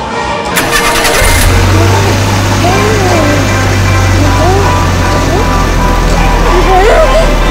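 A child at an amusement park playground mimics a motorbike with a steady, buzzing engine-like drone held for several seconds, alongside high chirpy vocal squeals and background crowd noise.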